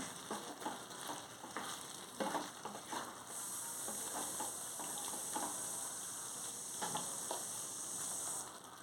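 Curry simmering in a pan with chili powder just added is stirred, soft scraping strokes repeating over a constant sizzling hiss, with faint ticking clinks from the spoon.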